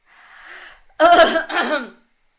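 A single person gives a short, harsh throat-clearing cough in a quiet room, preceded by a faint breathy sound.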